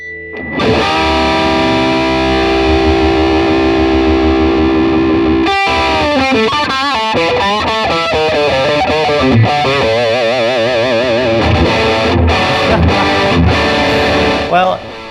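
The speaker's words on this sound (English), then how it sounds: "when you just kick in a little bit of distortion," A Heritage electric guitar with distortion plays loud and sustained, starting with a held note, then chugging chords and quick riffs, with no voices.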